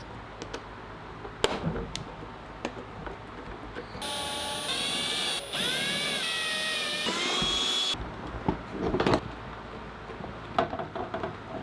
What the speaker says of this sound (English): Then I drilled a small hole and installed the cleats with a low-profile round-top fastener.